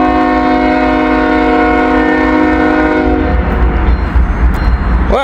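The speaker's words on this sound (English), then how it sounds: "It's one of these trains that they don't run a lot of intermodals along this line." An intermodal freight train blasts a loud, sustained multi-note horn for about three seconds close by, then rumbles and clatters past with rolling wheel and railcar noise.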